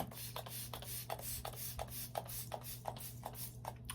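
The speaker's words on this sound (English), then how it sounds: "we're gonna take some setting spray" Makeup setting spray misted across the face, heard as a quick series of soft, airy hisses in a regular rhythm, close and fairly quiet over a steady low hum.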